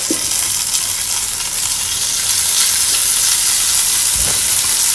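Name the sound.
roasting vermicelli in a clay pot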